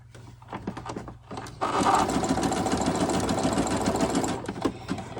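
A home sewing machine stitches elastic onto small American Girl and baby doll panties, its motor whirring steadily for about three seconds after a few brief starts, with quiet handling noises before and after.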